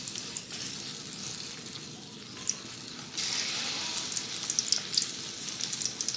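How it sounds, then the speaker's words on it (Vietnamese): Batter-coated bitter melon fries in a pan with a steady crackling sizzle that grows louder and denser halfway through, full of fine popping spatter, close up and with no talk. "Các bạn chiên cho nó vàng đều hai mặt nha các bạn"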